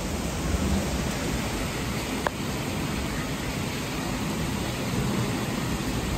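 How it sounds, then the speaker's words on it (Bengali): Heavy downpour of rain falling on trees and surfaces outdoors, a loud steady broadband roar throughout with one brief sharp knock partway through. "মুষলধারে বৃষ্টি হচ্ছে, আওয়াজ নিশ্চয়ই শুনতে পাচ্ছ"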